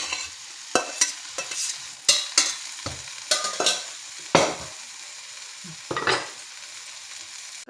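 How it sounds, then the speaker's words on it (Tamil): Vegetables being mixed in a pan for pav bhaji: a run of sharp scraping and pressing strokes at an irregular pace over a low sizzle, close and without speech. "காய்கறியை இதில் மிக்ஸ் பண்ணிக்கோங்க."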